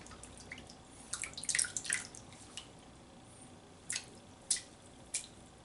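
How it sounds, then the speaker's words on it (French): A shaving brush is dipped into water, producing a few faint splashes and drips in short clusters over a quiet background. "Fait que je trempe la brosse."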